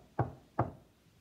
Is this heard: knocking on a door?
yes